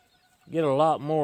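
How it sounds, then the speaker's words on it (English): An old Bennett gamefowl rooster on a farm gives a short, loud, close call that starts after a brief quiet moment and breaks off once before carrying on. "There's the old Bennett rooster."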